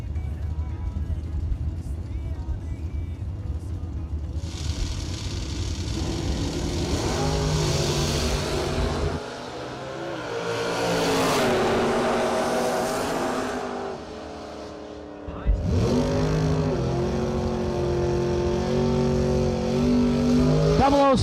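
Drag race cars, one a Ford Mustang, launch and roar down the strip at a Christmas bracket racing event. Several loud engine bursts rise and fall, with brief gaps between runs, and an announcer talks over them.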